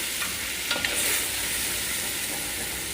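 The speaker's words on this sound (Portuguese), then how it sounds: "Entra com arroz e dá uma refogada também no arroz." Rice sautéing in a hot pan gives a steady, close sizzle that fills the whole stretch, with a few faint scrapes of stirring near the start and no voices.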